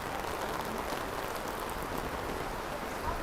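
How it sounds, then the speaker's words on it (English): Steady rain at an outdoor Christmas market in Mannheim, Germany, falling as an even, dense hiss with no gaps, close and moderately loud throughout. "If this rain stops."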